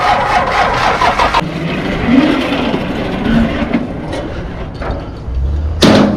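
Car engine driving up and off aluminum trailer ramps, a loud close idle and revving with a clank partway through, muffled rumble as it creeps forward, then another sharp metallic bang near the end.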